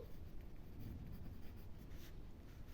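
A pen scratches steadily across paper while an answer is written down in a maths lesson, a faint continuous writing sound against quiet room noise.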